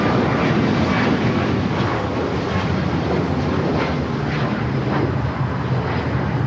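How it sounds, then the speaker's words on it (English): A United Airlines Boeing 737 MAX 9 jet takes off for Houston at LAX, its engines a loud, steady roar held at close range throughout, with no voices over it. "taking off to Houston Intercontinental on the MAX 9"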